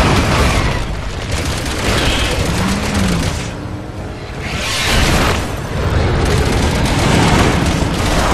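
A grenade going off in the video game Resident Evil 6, heavy booming blasts and roaring bursts rolling one after another, loud and dense with a brief dip between waves.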